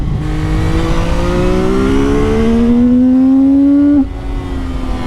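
A CFMOTO 675 NK motorcycle engine revs hard, pitch climbing steadily for about four seconds before the throttle snaps shut, loud and close with a rasping induction roar.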